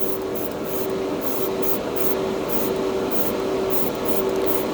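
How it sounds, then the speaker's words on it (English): Airbrush spraying anodized aluminum color paint, a steady close airy hiss with a faint continuous whine beneath, running without a break. "They atomize well too out of this airbrush."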